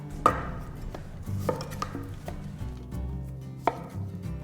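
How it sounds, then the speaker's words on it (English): A knife cuts fingerling potatoes in half on a board, giving a handful of sharp, close chops at irregular intervals over a low background hum. "So what we're going to do is we're going to cut them in half"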